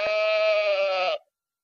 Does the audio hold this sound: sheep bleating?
yes